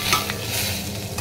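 Spices roasting in a pan for a moong dal samosa filling, a brief, even, close sizzle with no voices.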